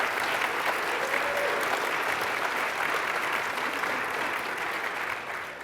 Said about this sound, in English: If you'll join me in just giving our panel a round of applause.